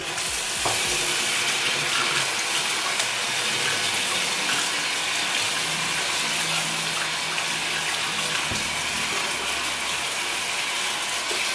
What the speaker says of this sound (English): Now I'm pouring leca down the sink.